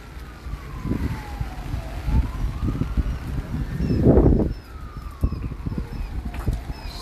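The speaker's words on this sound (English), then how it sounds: "sirens going everywhere" Emergency vehicle sirens wailing at a distance over a flooding river in Penrith, rising and falling tones under wind and passing traffic rumble, with a few birds.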